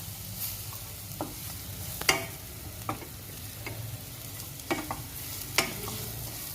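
A spice mixture sautés with garlic in a pan for fried eggplant, giving a soft, continuous sizzle under scattered light clinks and scrapes from a spatula, close by, with no one speaking.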